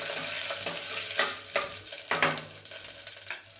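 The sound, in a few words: frying fennel and cumin in a pan for biryani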